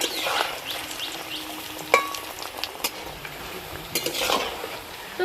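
Dhoka lentil cakes frying in mustard oil are flipped in the pan: a soft sizzle runs underneath while a few sharp metal spatula scrapes and clinks cut through, close by.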